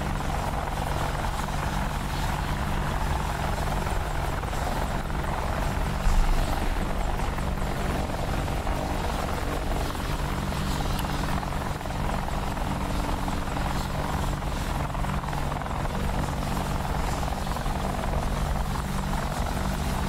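Steady, loud rotor drone of an AH-64D Apache helicopter in the DCS flight simulator, a constant whirring thrum with low harmonic hum, idling on the ground during hot rearming and refueling, continuous with no talk.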